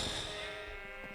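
A sheep bleats in the video game Minecraft, a single short wavering bleat heard alone and fairly quietly.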